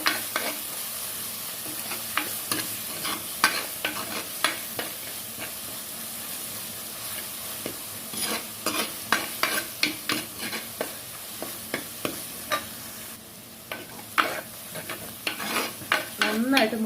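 Jackfruit fries in hot oil in a pan, crushed onion and dried red chilli going in alongside it. A steady close sizzle runs throughout, broken by repeated clacks and scrapes of a spoon stirring at an uneven rhythm, with no talking.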